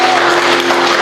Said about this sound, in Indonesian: Kasih tepuk tangan dulu buat Yesus Kristus.